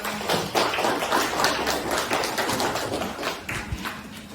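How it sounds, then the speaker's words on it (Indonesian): Classroom applause during a teaching practice lesson, a group clapping hands in a dense, uneven patter lasting a few seconds, moderately loud with room thumps underneath. "Oke, tepuk tangan."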